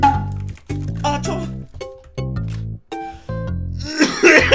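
Harsh coughs break out amid voiced, strained sounds from someone working out while playing PUBG. They come loud and close in irregular bursts, with a rough noisy flare near the end.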